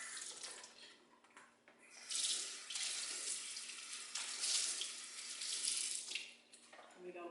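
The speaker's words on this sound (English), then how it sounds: "Just wash them off really quick. And make sure the water is cold. Always rinse off in cold water." Cold tap water runs steadily from a faucet into a sink while meat is rinsed, a broad rushing hiss that swells and eases in bursts and stays close and fairly loud throughout.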